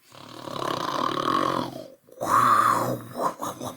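A voice imitates a mother snoring like a grizzly bear, giving two long, rough, rumbling snore-like growls with a short gap between them, close and loud, and a few short snorts after.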